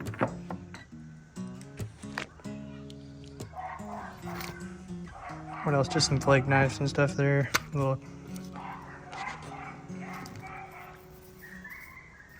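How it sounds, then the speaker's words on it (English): A neighbor's dog barks and yips repeatedly, loud and agitated bursts that peak midway, while someone talks over it nearby. "Seems like every time I try to do a video, this neighbor's dog goes crazy."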